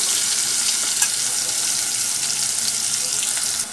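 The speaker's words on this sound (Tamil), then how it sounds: "இதில் சின்ன வெங்காயத்தை போட்டுக்கோங்க." Chopped small onions fry in hot oil for a country chicken soup, a close, steady crackling sizzle with one brief tap of a utensil early on and no voices.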